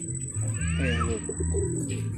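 Pigeons, a third-eye breed, coo loudly and close by in a steady rhythmic series of deep, throaty calls with a few higher chirps, while a voice speaks briefly over them.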